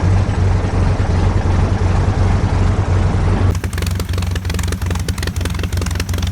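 A loud, steady Gipsy Major 1C piston engine of a de Havilland DH.87B Hornet Moth drones continuously with a deep rumble, its tone shifting slightly partway through, with no voices.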